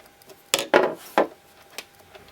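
Removing the presser foot from a Continental M7 sewing machine gives a few close, sharp plastic-and-metal clicks and scrapes in quick succession, then a faint tap.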